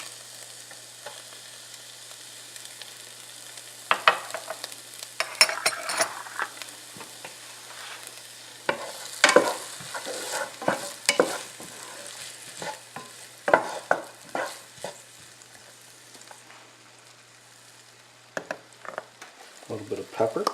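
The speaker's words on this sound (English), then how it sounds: "Get those sauteed. A nice tablespoon of minced garlic." Minced garlic sautéing in a pan, a soft steady sizzle with intermittent scraping and stirring clatters from a utensil, close by and fairly quiet, with no talking.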